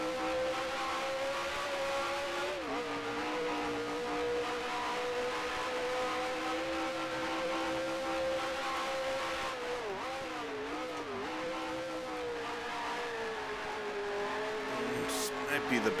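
Racing car engine in Grand Prix Legends, a loud continuous drone that dips as the driver shifts down through the gears under heavy engine compression, then climbs again, with a brief tyre squeal near the end.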